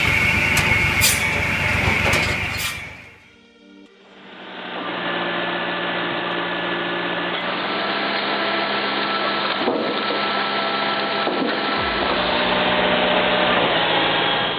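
A firewood processor with a hydraulic conveyor runs with a loud, steady mechanical drone after a brief dip, its motor hum continuous and close with faint shifts in pitch.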